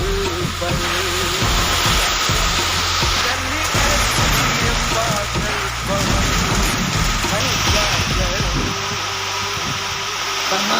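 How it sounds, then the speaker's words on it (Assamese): Heavy rain pours down steadily after a storm, a dense, loud wash of falling water that continues throughout with some low rumbling underneath. "চাওক কেনেকুৱা বৰষুণ দিলে।"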